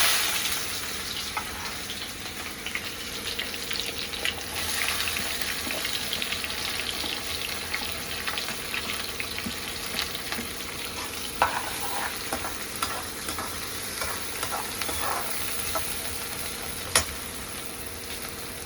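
Onions sizzle steadily in a hot pan with oil while a spoon stirs them, the frying hiss continuous and close, with occasional scraping and clinks, prepared for an Eid-ul-Adha meal.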